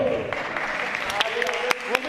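Audience at an eloquence contest final in Bordeaux applauds, a steady, moderate wash of clapping with a few sharp individual claps near the end, a voice faintly present beneath it.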